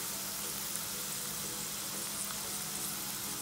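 Onions frying in a pan with a little turmeric stirred in, giving a steady, soft sizzle that runs evenly throughout with faint crackles and no talking.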